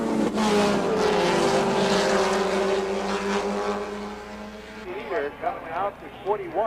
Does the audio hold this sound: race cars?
yes